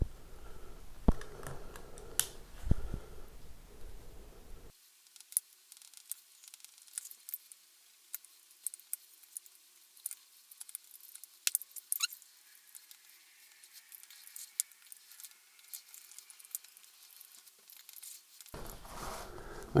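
A Stanley knife cutting through the pickup cover on an Epiphone 335 guitar, faint close scratching and small clicking snips scattered irregularly over a very quiet background with no talking.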